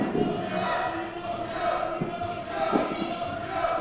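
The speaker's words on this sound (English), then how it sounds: "You can hear the fans getting hyped for this game and the crowd" Crowd of fans cheering at a basketball tip-off tournament game in a gym, a steady roar of voices with shouts and a few sneaker squeaks or bounces mixed in.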